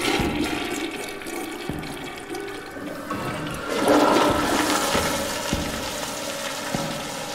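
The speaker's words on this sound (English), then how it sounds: "We can flush every freaking toilet." Toilet flushing in the game Toiletrooms, a sustained gurgling water rush that swells midway and keeps going, with faint knocks under it and no voices.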